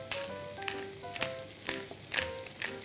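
Bacon frying in a pan for a sweet corn carbonara: steady close sizzling and crackling with a few sharper pops, no voices.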